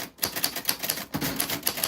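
Keys striking paper on an old manual typewriter, eight or so crisp clacks in a steady rhythm with a short break midway, close-up with no voices.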